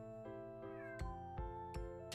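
A cat meows repeatedly, several short close calls over a steady background of music or tonal hum, with no speech.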